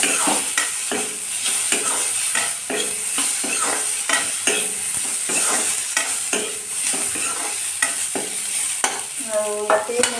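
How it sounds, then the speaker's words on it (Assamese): Tomatoes frying with onions in a pan, a steady sizzle broken by repeated scraping stirs at an uneven rhythm, close and fairly loud with no talk. "এতিয়া মই আগতে বিলাহীখিনি দি লৈছোঁ, কাৰণ বিলাহীটো আগতে ভাজি ল'লে কালাৰটো ধুনীয়া আহে"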